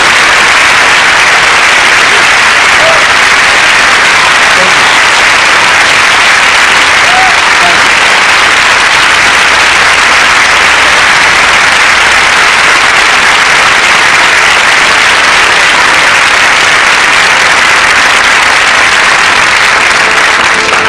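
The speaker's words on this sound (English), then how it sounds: "Let's give Mrs. Rosa Parks a round of applause" A large audience bursts into sustained, loud applause for Rosa Parks at a motivational speech event, a dense wall of clapping that holds steady for the whole stretch without fading.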